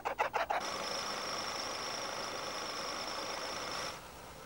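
Car engine idling after a MOTORUP engine treatment, following carburetor and transmission work, a steady smooth mid-pitched drone with a faint whine, preceded by a few quick pulses and fading slightly near the end.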